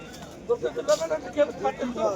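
Pigeons cooing in a steady run of soft, rounded calls at a market, several birds close by against a low background murmur of the crowd.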